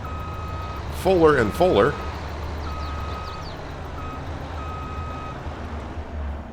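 Reversing beeps from a truck parking by a shed full of big farm equipment in Farming Simulator 22, steady evenly spaced tones over engine hum, with a voice talking briefly near the start.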